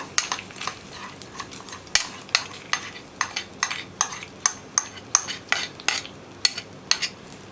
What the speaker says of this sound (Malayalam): ഇനി നമുക്ക് നമ്മുടെ കറിയിലേക്ക് വറവ് റെഡിയാക്കിയത് ചേർത്ത് കൊടുക്കാം.